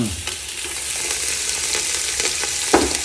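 Chicken frying in a pan with ginger and garlic, a loud continuous sizzle and crackle with scattered spatters and a sharp clack near the end, no speech.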